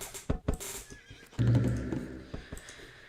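A horse neighs loudly in the strategy video game Age of Empires: The Conquerors, a sharp whinny after brief clip-clop hoof taps and game clicks, up close with no talk.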